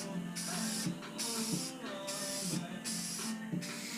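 An aerosol can sprays clear coat onto a car headlight during restoration, hissing in several steady bursts with short pauses between them, close to the microphone.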